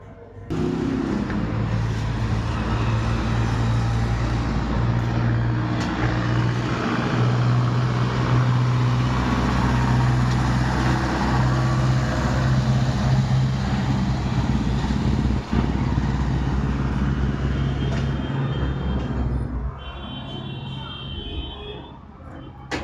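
A motorcycle engine runs close by at a steady idle, a low continuous rumble that holds for about twenty seconds before easing off, with a few voices faintly audible in the background.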